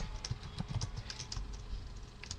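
Keys clack on a computer keyboard as a MySQL root password is typed during a Radius Manager install, a quick irregular run of close, crisp taps with no talk.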